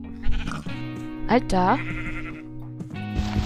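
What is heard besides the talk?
sheep bleating in the video game Minecraft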